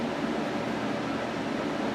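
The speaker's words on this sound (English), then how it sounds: "I have a blower here for my studio blowing in wood heat from the outside." A studio blower fan pushes wood-stove heat in from outside, giving a steady, even whoosh of broadband air noise with a low rumble underneath, constant throughout with no voices.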